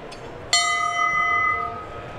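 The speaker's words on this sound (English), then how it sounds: "Oh, look, we can sit here and ring Chip's bell." A single bell is struck once at an outdoor festival event and rings out loud and clear, its bright tones sustaining and slowly fading.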